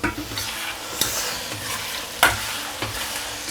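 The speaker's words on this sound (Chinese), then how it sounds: "时间到，这个我们给它翻一下锅。" A wok of braised dish with basil is stirred and tossed after simmering under a lid, giving soft sizzling with a few sharp scraping clanks of the utensil against the pan and no talk.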